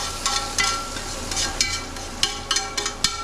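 Hot pan drippings poured over seared pork chops, crackling and sizzling close up with scattered sharp pops over a steady hiss.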